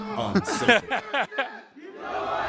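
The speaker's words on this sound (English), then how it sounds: "Oh, much better cheer in the audience." A StarCraft league crowd at an esports match breaks into a swelling cheer after a voice speaks, the roar building and holding steady to the end.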